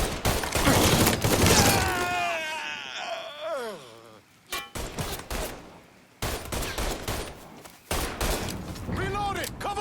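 Gunfire from the Mafia III video game bursts in loud, rapid fusillades at the start and end, with broadband shots cracking between shouted, strained voices.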